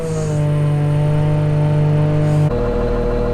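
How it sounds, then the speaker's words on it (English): Wheel loader tractor engine running steadily while being driven to a farm supply store, a loud, continuous low engine drone with strong harmonics that shifts pitch slightly partway through, no talking. "I'll drive my tractor to Tractor Supply"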